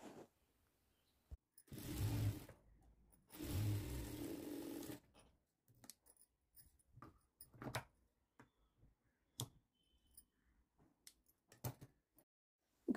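A sewing machine stitches a folded fabric hook strip for a blouse, running in two short bursts of whirring, the second longer, separated and followed by quiet handling clicks and rustles.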